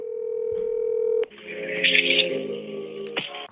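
A telephone dial tone on an outgoing call to a business number, steady and clear for about a second, then cut off as hold music takes over.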